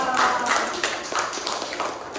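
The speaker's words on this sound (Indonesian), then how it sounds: "Kasih tepuk tangan dulu dong." Classroom clapping from a group of fifth-grade students during a math lesson, a steady patter of many hands lasting a couple of seconds at moderate level, with faint voices mixed in.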